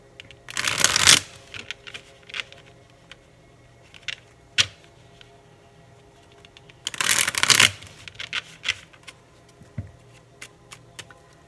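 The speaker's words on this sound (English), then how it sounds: "Let me shuffle these first." Two bursts of tarot cards being riffled and shuffled close by, separated by quiet pauses with scattered soft taps and clicks of handled cards.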